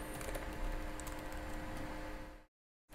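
Typing on a computer keyboard while entering a Linux terminal command during a LAMP server setup on AlmaLinux; a steady run of close, soft key clicks for about two and a half seconds, then a sudden brief silence before the sound resumes.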